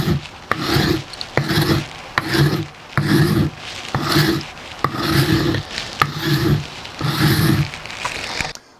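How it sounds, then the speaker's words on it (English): A Shinto rasp files down a wooden guitar neck on an LP Custom build, giving about eight steady, close rasping strokes in an even back-and-forth rhythm. "I've got my Shinto here. We're going to keep working with it and just start working down the neck."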